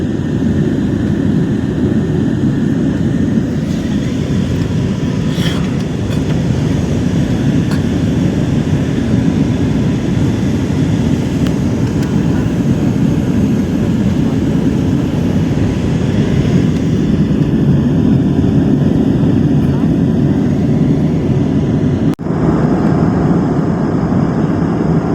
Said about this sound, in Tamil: லேண்ட் ஆகிட்டான். ஸ்ரீலங்காவில் வந்து இறங்கியாச்சு.